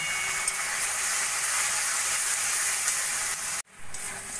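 Coconut and jaggery paste with cardamom sizzles steadily in ghee in a pan, a close, even hiss that cuts out abruptly near the end and then resumes more faintly.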